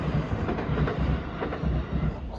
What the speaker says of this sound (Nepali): यहीँदेखि हिँड्छ त्यो ट्रेन।